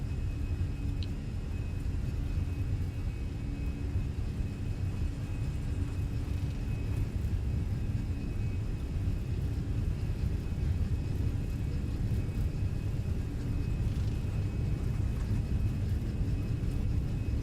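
A simulated Airbus A320 takes off from Istanbul in the Fenix flight simulator, a steady, loud broadband engine roar and runway rumble holding evenly throughout with no break.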